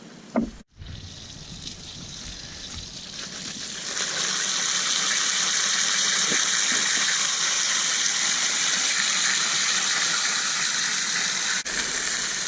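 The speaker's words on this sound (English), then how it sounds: "I'm just going to use the pressure from the water hose to get all the dirt out of the filter" A garden hose sprays water hard against an above-ground pool filter cartridge to wash out dirt, a loud steady hissing gush that starts after a brief click and continues without a break.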